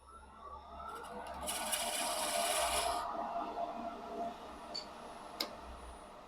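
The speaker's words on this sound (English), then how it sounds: "You can clean that up with the carbide point tool." A carbide point tool scrapes wood to clean up small tear-out while making a birdcage awl, giving a close, dry, continuous rasping rub for about a second and a half, followed by a few faint isolated ticks.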